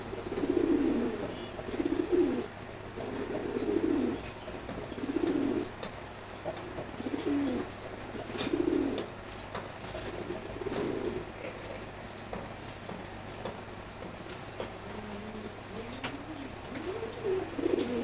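A pair of tame, friendly pigeons coos steadily at close range, repeating low rolling calls in a regular rhythm over a faint constant hum.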